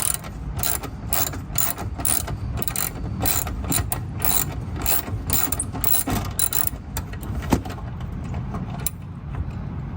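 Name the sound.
ratchet loosening 10 mm bolt on Honda Civic headlight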